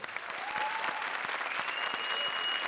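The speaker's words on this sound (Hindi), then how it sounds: "जोरदार तालियां आफ्ताब और आमना" Studio audience on the Comedy Circus set gives a thunderous round of applause for the guests, a steady, dense roar of clapping with no pauses, close and loud throughout.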